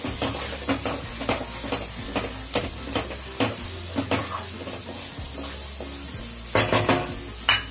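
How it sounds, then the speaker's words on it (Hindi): Beaten eggs sizzling in a pan with cooked onions for egg bhurji, stirred by a spatula that scrapes and knocks against the pan in repeated strokes over a steady hiss, heard up close and without speech. "अब हमने जो इसमें अंडा फेंटा था वो हम इसमें डाल देते हैं इसको डाल के हम अच्छे से हिला देंगे"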